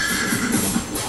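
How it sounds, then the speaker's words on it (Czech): A horse neighing in the Minecraft video game, a loud drawn-out whinny over a busy noisy background, with no talking. "Jedu na koni!"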